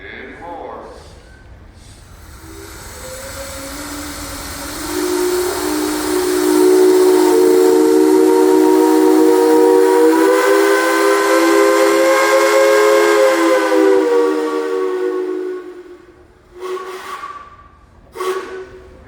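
A steam traction engine in a parade gives a long, loud whistle blast with a hissy start that swells and holds before fading, followed by brief crowd voices.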